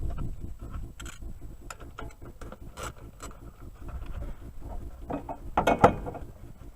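Hand ratchet loosening 10mm nuts on the plastic engine cover of a 2009 Scion xB, a quick run of small, dry, rhythmic clicks up close, with a brief clunk near the end.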